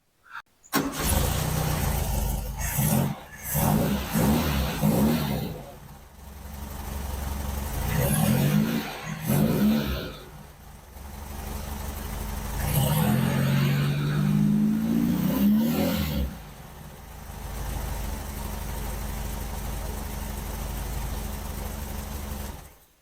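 A VW Beetle's small air-cooled engine with a canned exhaust starts, then idles with a rough, throaty exhaust rattle, revving up and down a few times before settling into a steady idle.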